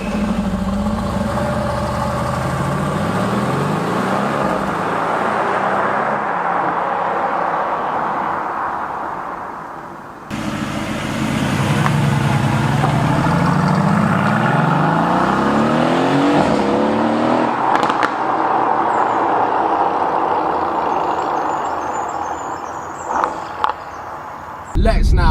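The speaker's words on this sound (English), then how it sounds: "the exhaust system is on, and when it's in idle it is so aggressive and it just barks at you a lot" A sports car's exhaust rumbles deep and loud at idle, with a few rising revs and barks, while a voice talks over it throughout.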